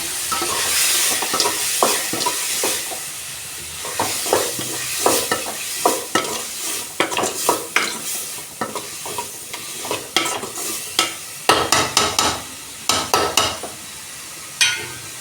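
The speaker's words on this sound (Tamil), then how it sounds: "மறுபடியும் வதக்குங்க" Masala being sautéed and stirred in a pan for murrel fish curry, with a continuous close sizzle of frying under repeated scraping and stirring strokes throughout, no talking.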